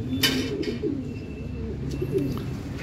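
Pigeons cooing close by in a loft after training, soft repeated low coos layered over one another with faint background noise and no talking.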